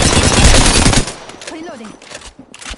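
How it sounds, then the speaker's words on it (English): A loud, rapid burst of Prowler SMG fire in a shooter video game, lasting about a second and then cutting off. Game sounds and a brief voice follow at lower volume. "Prowler SMG here."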